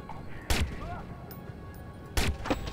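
Two sharp gunshots in the video game Watch Dogs, one headshot, about 1.7 seconds apart, loud and close against a quiet backdrop of game ambience.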